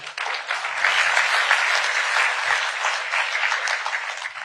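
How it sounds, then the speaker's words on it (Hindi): A conference audience claps steadily in a dense, loud burst of applause that holds evenly throughout. "तारीफ के लिए एक बार सबसे ताली बजवा दीजिए"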